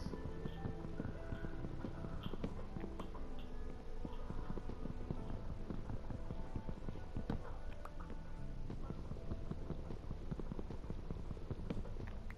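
Horse hooves clip-clop at a steady walking pace in the Minecraft video game, a continuous run of light, even hoofbeats over a quiet ambient background.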